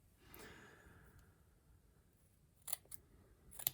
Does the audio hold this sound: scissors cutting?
yes